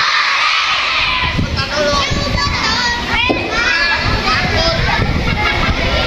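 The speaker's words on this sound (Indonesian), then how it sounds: "kalau kamu anak hebat teriak hore" A crowd of schoolchildren at an elementary school Maulid Nabi celebration shouts and cheers loudly, with clapping mixed into the excited chorus of young voices filling the room.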